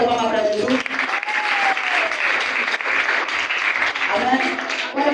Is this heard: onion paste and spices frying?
no